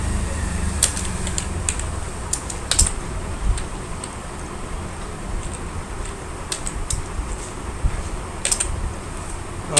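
Steady typing on a computer keyboard while writing a shell script, irregular bursts of crisp key clicks close to the microphone over a low fan hum, no speech.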